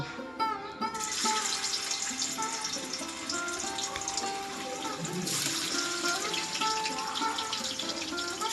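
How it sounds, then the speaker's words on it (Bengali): Cut paneer pieces frying in hot oil in a pan for a vegetarian potato-paneer dish, a steady close sizzle that flares sharply after the pieces go in and keeps crackling without a break. "এবার আমি কেটে রাখা পনিরগুলো তেলের মধ্যে দিয়ে ভেজে নিব"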